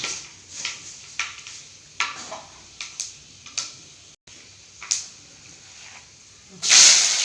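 Fenugreek seeds dropped into hot oil in a home kitchen, giving soft crackles and pops over a faint sizzle, then a sudden loud hiss near the end.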